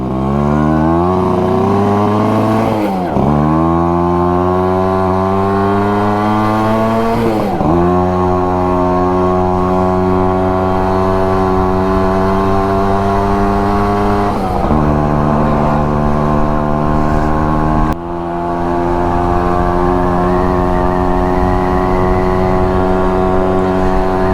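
A Yamaha YG-1 Trailmaster motorcycle engine pulls loud and close in first gear, its buzzing two-stroke note rising steadily through several long climbs, each dropping as the revs fall before building again.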